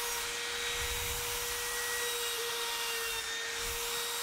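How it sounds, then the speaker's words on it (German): A small edge router rounds wooden edges to a 2 mm radius, giving a faint, steady high whine with a constant hum throughout and no talking. "Dafür nutze ich diese kleine Kantenfräse."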